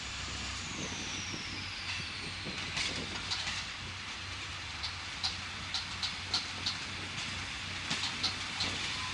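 An SNCF diesel railcar stands at Nancy station, a steady engine rumble and hiss under a run of sharp metallic clicks and clacks, loud and close.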